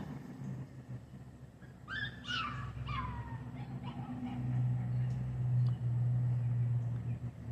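A dog gives a few high, whining whimpers close by early on, then falls quiet under a low steady rumble of background noise.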